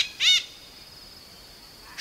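A red-breasted lalbukti in a forest gives one short, sharp, high call, followed by the start of another about two seconds later, against a quiet background.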